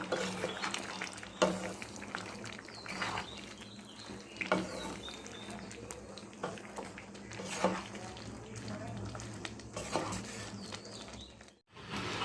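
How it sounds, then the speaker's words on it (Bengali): Golap polao rice with saffron is stirred in a cooking pot, scraping and clinking of a spoon against metal alongside a soft sizzle, close and irregular throughout. "এবার একটু নেড়ে দেবো।"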